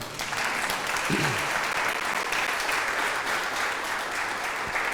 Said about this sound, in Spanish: ¿Por qué no le dan un aplauso al Rey?